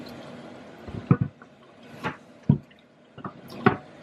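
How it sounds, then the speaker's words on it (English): An item is washed in water and squeezed by hand: a few wet squishes and drips come in irregular bursts, close and moderately loud, with quiet pauses between them. "I need this thing to squeeze. I'm going to wash it."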